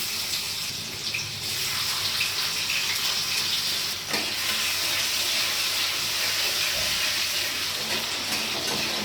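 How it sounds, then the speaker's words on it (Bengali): Chopped garlic and ginger frying in hot oil in a pan, a loud continuous sizzle and hiss that holds steady up close, with a brief sharper burst near the middle. "এবারে আমি রসুন আদা কুচোটা মিশিয়ে দিচ্ছি।"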